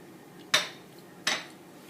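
Okra (bhindi) with salt is stirred in a metal pan, making two sharp utensil clanks about a second apart against a quiet background.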